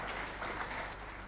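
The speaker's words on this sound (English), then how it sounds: "Please, round of applause as we bow and take our leave." Audience applause at a plenary session of a national migrant dialogue, a steady broadband patter of many hands clapping at moderate volume, sustained evenly through the short stretch without talk.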